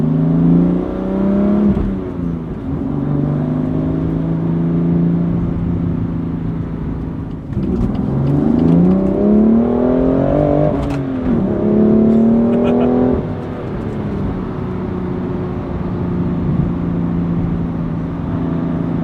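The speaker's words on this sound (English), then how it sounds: "Do you like the automatic rev matching?" A BMW M2's engine revs and blips through downshifts with automatic rev matching, loud and close throughout, the pitch rising and falling in several swells around the middle before settling into a steady drone.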